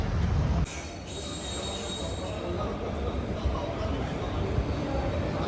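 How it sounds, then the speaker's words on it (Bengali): The Amaravati Express rolls into the station with a steady rumble and a continuous high metallic wheel squeal, heard close up under faint background chatter. "আমাদের ট্রেন অমরাবতী এক্সপ্রেস চলে এসছে।"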